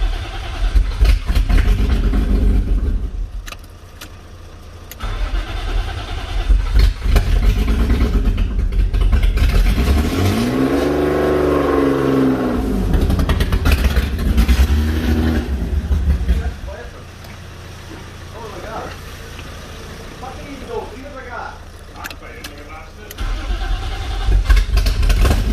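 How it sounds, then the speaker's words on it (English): A BMW E36 drift build with an M52 engine cranks, fires up and revs in bursts before settling to a rough idle, loud and close, with people talking around it. "First start of Harry's car."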